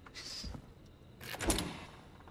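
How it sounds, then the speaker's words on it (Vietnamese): A door opening in the video game Killer Frequency, heard as a soft click and then a louder sliding, rattling movement that rises and fades over about a second. "Đây là mình mở cửa nè."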